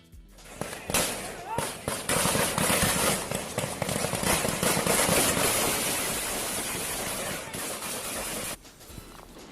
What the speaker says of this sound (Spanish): hubo disparos de lado y lado de la fuerza pública y de un grupo desconocido